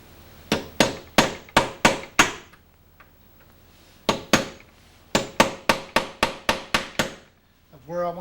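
Sharp metallic taps marking a drilling spot on a lock: two quick bursts of about six evenly spaced strikes each, then a third longer run, close and loud.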